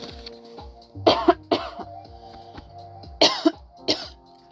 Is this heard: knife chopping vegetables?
no